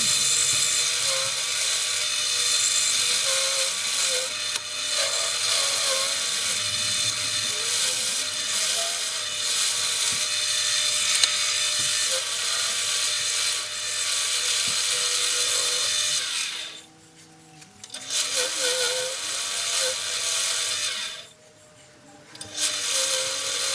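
End-grain wooden chopping board being shaped with a rounded edge on a lathe: a loud, continuous whirring cut with a ragged tool-on-wood texture, dropping out briefly twice near the end before resuming.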